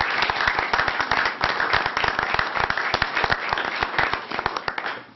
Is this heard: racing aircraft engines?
no